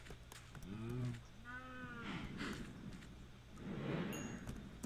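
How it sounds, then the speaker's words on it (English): Cows mooing in a video game farm, a low drawn-out moo followed by another rising call and softer bellows, fairly close over faint background noise. "Feed the cows, get more food."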